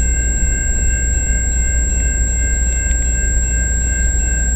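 CN freight train 439 departs London East Yard on the Dundas Subdivision in London, Ontario, a steady low rumble filling the whole stretch at a constant level with no voices.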